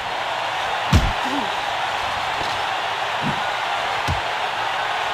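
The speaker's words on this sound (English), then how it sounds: "Oh, what force behind a devastating haymaker." Heavy punch impacts from a haymaker in a heavyweight boxing video game, a loud thud near one second followed by two softer blows later, over a steady crowd-like noise bed.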